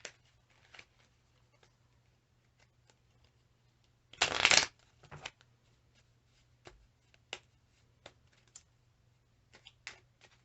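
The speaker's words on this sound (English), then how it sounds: "I feel like I need to shuffle again" A quick riffle of tarot cards shuffling, one brief close burst, surrounded by quiet sparse clicks and taps.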